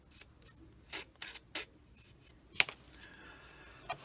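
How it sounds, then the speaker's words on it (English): Brief rasping scrapes on a part from an Italeri 1/35 M47 plastic tank kit as a burr is sanded off, several short separate strokes with one sharper scratch, close and fairly quiet with no talk. "And then just sand the burr off."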